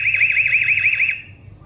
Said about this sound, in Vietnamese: Âm thanh báo động rất là lớn luôn.